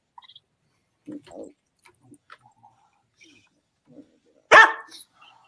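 A hungry female dog named Zadie gives one loud, close bark after a few soft whines and quiet mouth sounds in an otherwise quiet indoor room.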